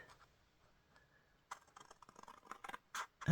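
Scissors cutting paper for a handmade zine, a faint scrape at first, then a run of close crisp snips and rustles that grow louder toward the end.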